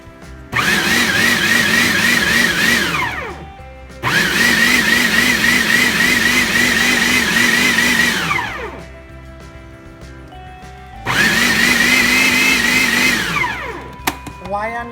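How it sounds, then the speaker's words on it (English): A food processor pulses hot, spicy, chunky Trinidad-style pepper sauce in three loud bursts of whirring, each lasting a few seconds and separated by short quiet gaps. "You'll only hear me when I'm running the processor."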